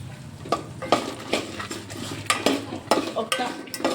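Dry red chillies fry in a pan while a utensil stirs, scraping and clinking against the metal at irregular intervals over a low sizzle, close up with no talk.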